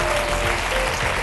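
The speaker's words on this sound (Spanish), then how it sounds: "Recibimos con un aplauso." Studio audience applause on a Spanish television talk show, a brief burst of steady, uniform clapping from a crowd.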